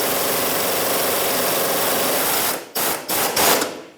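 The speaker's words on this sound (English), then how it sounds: "So I'm going to use a 3/8 gun, 17mm socket." A 3/8-inch impact gun with a 17mm socket works loose a rear sway bar link bolt on a 2013-2018 Toyota RAV4, giving a loud, steady hammering buzz that breaks into several short bursts near the end.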